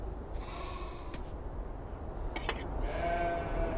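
Sheep bleat on a Navajo ranch in the video game Beyond: Two Souls, a few short calls over a steady outdoor hum, moderately close and clear with no talk.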